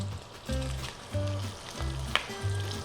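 Chopped onion sizzling in a pan with bacon pieces for a miso carbonara, a steady close frying hiss with a few rhythmic stirring scrapes and no talk.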